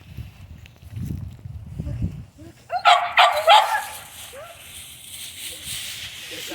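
A pet dog lets out a short burst of sharp barks and yips partway through, close and fairly loud, after a stretch of quieter whimpering and shuffling; a person speaks softly at the start.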